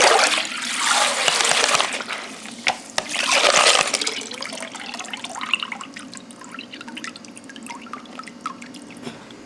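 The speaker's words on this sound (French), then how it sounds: "Le rinçage alcalin." Water from an alkaline rinse in a barrel zinc electroplating line splashes and pours loudly at first, then settles into a steady trickle with scattered drips, heard alone without talk.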